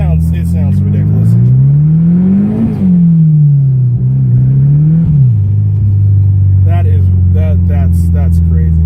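Built turbocharged S300SX engine revving in the snow, pitch climbing and falling through a couple of throttle blips before settling into a loud, steady idle close to the microphone.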